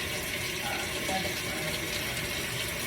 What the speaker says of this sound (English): I was just waiting for water to get hot in the sink